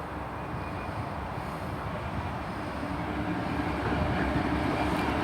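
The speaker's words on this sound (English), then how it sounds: "Now we've got a passing freight service coming round the back of platform 1, led by class 66" A freight train hauled by a class 66 diesel locomotive rolls past a station platform at Severn Tunnel Junction, a steady deep rumble and grinding of wagons that slowly grows louder, with no voices.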